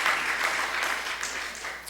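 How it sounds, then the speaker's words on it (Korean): A church congregation applauds at a Sunday morning service, a dense, steady patter of clapping from many hands. It starts loud and fades slightly toward the end, with no talk over it. "박수 한번 해주시기 바라요"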